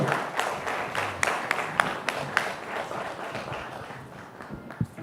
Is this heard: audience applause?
yes